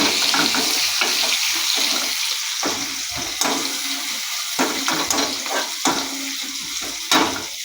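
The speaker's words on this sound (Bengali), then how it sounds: "আমি এই পেঁয়াজটা এই তেলটার মধ্যে আমি দিয়ে দিলাম।" Onion dropped into hot oil on a gas flame makes a loud, continuous frying hiss. Scraping and stirring clatters break through it in bursts. Nobody speaks.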